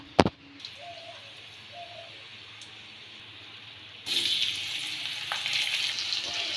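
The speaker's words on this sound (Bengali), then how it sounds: "সমস্ত মাছগুলো ভাজার পরে দিয়ে দিচ্ছি কালো জিরে ফোড়নে" Nigella seeds drop into hot oil left from frying pomfret, starting with a sharp crack and then a low sizzle that turns abruptly louder and busier halfway through.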